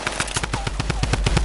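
Rapid automatic gunfire in a squad-based shooter video game, a loud, dense burst of evenly spaced shots running without pause through the short stretch, with no voices over it.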